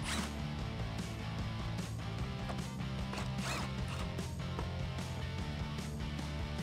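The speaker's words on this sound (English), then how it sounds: "we're gonna grab a 10mm socket and remove both of these bolts" A 10mm socket ratchet backs out the license plate bolts on a Jeep Gladiator JT, making quick, close, rapid clicking bursts with small metallic knocks in between.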